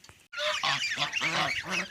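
A goose honks loudly and close by, a harsh run of repeated calls with no other sounds.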